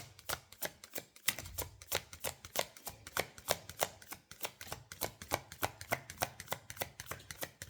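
Tarot cards are shuffled close up in a quick, steady rhythm of sharp riffling snaps, repeated dozens of times with no speech.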